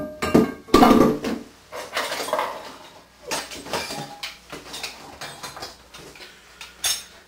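Metal cooking pot being handled while camping gear is packed, with clanks and rattles of cookware and utensils knocking together in irregular bursts, close and fairly loud, no speech.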